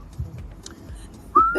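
A person whistles a short rising note near the end of a quiet stretch of faint background noise.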